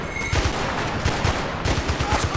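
Rapid bursts of video game gunfire, a dense automatic rattle of repeated shots that stays loud and close, with no talk over it.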